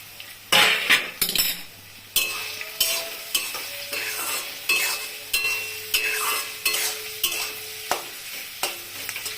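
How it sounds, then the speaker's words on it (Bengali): Vegetables frying in a pan for veg chowmein, with a lid lifted off and repeated stirring strokes clinking against the pan, steady sizzle underneath, near and moderately loud, no talk. "এবার ঢাকনাটা তুলবো।"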